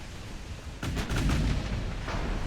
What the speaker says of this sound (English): We got an ammo detonation.